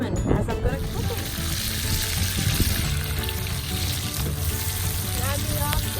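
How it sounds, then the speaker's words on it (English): Onions fry in oil and butter in a pan with a loud, steady close sizzle and crackle, stirred now and then, with a faint voice briefly in the background. "I'm going to get the onions frying"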